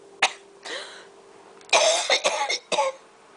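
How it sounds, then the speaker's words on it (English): Several harsh coughs in short bursts, one quick cough, then a longer run of hacking coughs with a bit of throat clearing, close and fairly loud. "had to get that cough out of the way, didn't I?"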